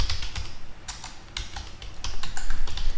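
Rapid clicking of a computer keyboard as a short name and email are typed, steady close keystrokes in quick bursts with no voices.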